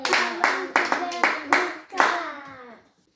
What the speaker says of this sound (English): Give Jesus a big clap.